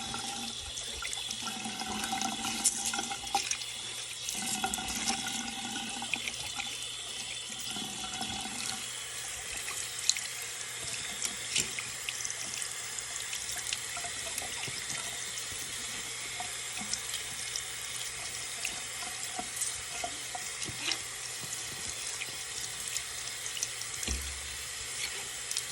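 Tap water runs steadily into a sink while a heavy 14k gold Miami Cuban chain is rinsed under it, a constant close splashing hiss with a few small clinks and no talking.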